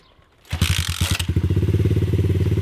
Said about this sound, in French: j'ai sorti les deux motos et je les ai démarrées, je vais laisser tourner une petite 10 minutes